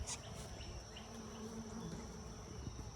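Honeybees buzz steadily around their hive in a backyard garden near a blueberry bush, a continuous close droning hum with a few louder passes of individual bees, no voices.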